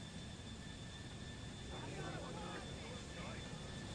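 A helicopter in the video game GTA IV gives off a faint, steady rotor and engine whine, with a voice talking over it in the middle.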